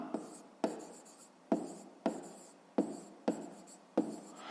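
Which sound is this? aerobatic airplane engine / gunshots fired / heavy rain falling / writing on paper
writing on paper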